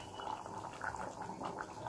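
Hot water going in a little at a time over sautéed potol and potato curry in a pan, a soft steady liquid bubbling and trickling wash close by, with no talk.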